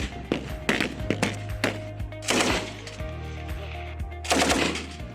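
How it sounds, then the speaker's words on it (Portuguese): Rifle fire from soldiers training at an army shooting range: a rapid series of sharp, loud shots in irregular clusters, some overlapping, with a lingering low hum between bursts and no talk. "Os militares envolvidos neste treino operacional seguiam a cada passo a voz de comando que ordenava para se efetuar o tiro certeiro aos alvos."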